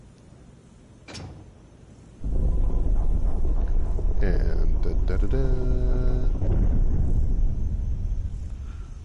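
A door opens in the Resident Evil HD game, with a sliding, rushing whoosh that swells and holds steady before tapering off, after a brief sharp tone near the start.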